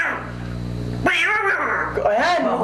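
A person imitates a cat's meow as a signal, producing two drawn-out, wavering mewing calls close up, following a low hum.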